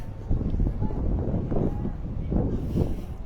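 Strong wind buffets the microphone outdoors at a football stadium before a Japan vs Thailand match on a cold, sunny day, making a steady low rumbling roar with gusts swelling throughout.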